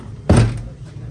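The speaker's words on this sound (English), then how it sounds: "when I shut the door, which you heard something in there falling." A car's driver door shuts with a single solid thunk, loud and close, followed by a brief low rattle fading out; nobody talks.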